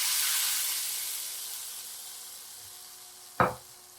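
Sizzling chili oil mixture poured over lamb nihari: a loud hissing sizzle that slowly fades, then a short sharp clatter near the end, with no talking.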